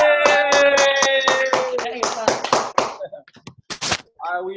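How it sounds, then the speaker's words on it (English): People on a Zoom call clapping hands in a quick rhythmic burst of sharp, close claps over a sustained musical tone, then scattered uneven claps and a short vocal shout. "Clap it up, clap it up, clap it up,"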